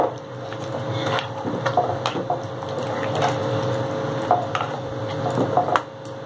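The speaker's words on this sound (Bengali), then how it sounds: "ভালো করে আর একটু কষিয়ে নেবো।" Chicken curry sautéing in a pan, a soft sizzle beneath repeated spatula scrapes and small taps against the pan, close and moderately loud, with no voices.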